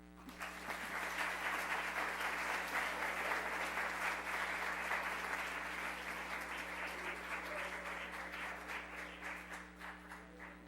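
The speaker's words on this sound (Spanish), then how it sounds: "Un aplauso, por favor." A school audience at a high school lecture gives long, even applause, a continuous wash of many hands at moderate distance over a low electrical hum, easing slightly toward the end.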